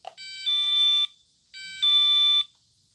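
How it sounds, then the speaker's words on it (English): A motion sensor alarm sounds twice, each a loud, shrill electronic tone lasting about a second, separated by a short silence. "it causes the alarm to go off."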